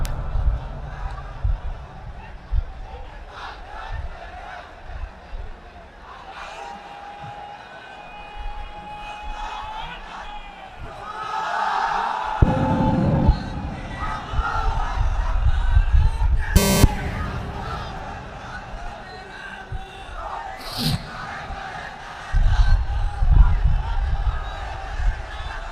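A crowd at an Islamic religious sermon chants the takbir, Allahu Akbar, in loud swelling bursts of many voices answering a lead speaker's calls, with a steady hum beneath.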